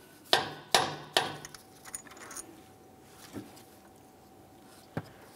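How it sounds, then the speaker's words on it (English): A hammer taps a water pump on a 2003-2011 Mercury Grand Marquis engine to break it free: three sharp metallic strikes in quick succession, then a few lighter knocks, each ringing briefly. "we'll give it a couple taps with a hammer to break it free"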